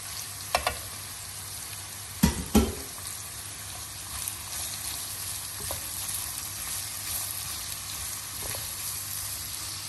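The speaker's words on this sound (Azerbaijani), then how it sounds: "Ətlərimiz qovrulandan sonra bura biz renkli biberlərimizi əlavə edirik." Cooked beef and colored bell peppers frying together in a pan for fajitas, a continuous close sizzle with a few sharp clatters of stirring near the start.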